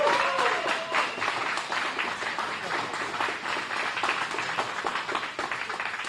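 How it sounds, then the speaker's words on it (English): Crowd at a Trebek Center ribbon-cutting ceremony in Northridge gives Ken Kraft a loud, dense round of applause, continuous clapping that holds steady throughout. "please give him the biggest applause"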